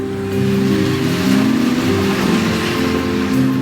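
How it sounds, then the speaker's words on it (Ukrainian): A car engine hums and builds as the vehicle draws nearer, a steady low drone rising slightly in intensity over a few seconds. "коли ви бачите і чуєте, що до вас наближається машина"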